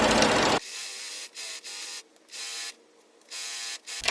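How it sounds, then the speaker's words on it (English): A sewing machine runs a long straight stitch down the edge of fabric for a farmhouse-style ruffled pillow, giving steady mechanical whirring in several bursts separated by brief pauses, close and alone. "set your sewing machine to the longest possible stitch and just run a straight stitch all the way down the"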